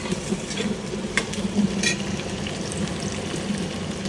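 Onions crackling in hot oil for a village-style mutton curry, a dense, steady close-up sizzle with a few sharper pops and faint stirring.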